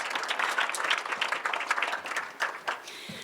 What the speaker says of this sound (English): Let's give a round of applause to all the amazing women here.